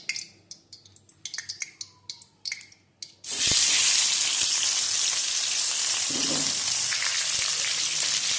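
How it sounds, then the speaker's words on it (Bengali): A fish head drops into hot oil in a heated pan and erupts into a loud, dense, continuous sizzle and spatter that holds steady to the end, after a few sharp clinks and taps of cookware. "কড়াই গরম হয়ে গেছে তেলও দিয়ে দিয়েছি তেলটাও গরম হয়ে গেছে এরপরে আমি মাছের মাথাটা ভেজে নেব"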